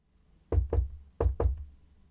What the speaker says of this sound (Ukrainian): У двері постукали рівно чотири рази.